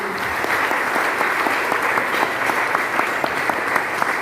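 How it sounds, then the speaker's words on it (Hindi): A crowd at a motivational success-story event breaks into loud applause, a steady, dense roar of many hands clapping together with faint rhythmic accents running through it, close and unbroken throughout. "एक बार जोरदार तालियां लोगों के लिए"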